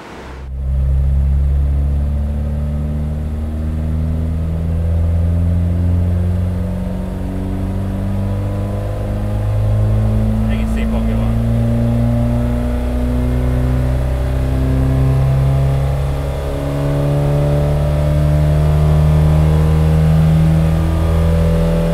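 Tuned Lada with a 1.6 engine and programmable ignition on a dynamometer, revving loudly through long rising pulls with a droning harmonic whine, dipping briefly and climbing again, alone without talk.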